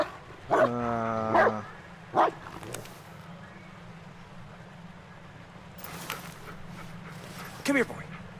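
A dog barks in the Blair Witch video game, three close, loud barks in quick succession, followed by quieter game noises and a voice speaking.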